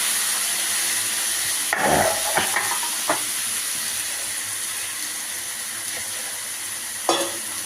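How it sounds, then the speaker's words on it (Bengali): Chicken curry masala frying in a pan under steady stirring, a continuous close sizzle broken by a few sharp scrapes and clacks of the spoon against the pan. "এবার আমি কষতে থাকবো আর নাড়তে থাকবো"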